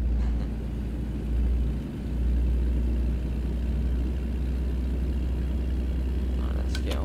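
A truck engine in American Truck Simulator drones at a low, steady rumble on a motorway, with a faint brief swell early on.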